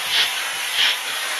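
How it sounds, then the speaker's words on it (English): Loud hissing steam from a Philips GC9236 PerfectCare Expert steam generator iron bursts out in two quick pulses over a continuous spray-like hiss, close and with no voices. "Bursting steam through"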